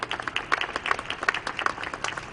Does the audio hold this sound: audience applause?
yes